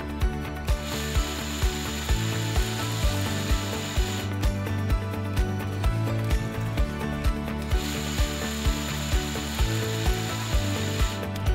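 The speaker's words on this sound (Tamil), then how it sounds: "சிகப்பரிசி, திணை மாவு இது எல்லாத்தையும் சேர்த்து அரைச்சி தோசை மாப்பதத்துக்கு எடுக்கணும்" A wet grinder grinds red rice, millet and other grains into dosa batter, giving a steady rhythmic knocking churn with regular thumps about twice a second, close and continuous.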